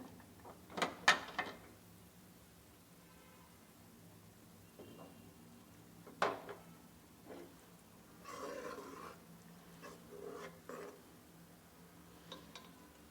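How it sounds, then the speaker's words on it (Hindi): Faint metallic clicks and clanks of a pressure cooker lid being handled and twisted open after cooking dal, with a soft scraping sound midway, in a quiet room. "अब इसका हम जो है ढक्कन वो खोल के"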